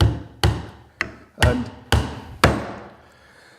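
A Vaughan 20oz all-steel claw hammer taps a small pin in with six sharp metallic blows at a steady, roughly half-second rhythm, each strike close and ringing briefly before the next.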